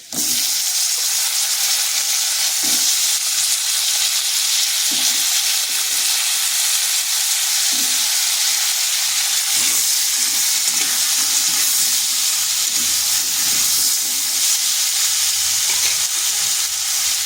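Cut pumpkin pieces fry with browned potatoes in a pan over medium heat, giving a loud, continuous, close-up sizzle with occasional stirring scrapes throughout.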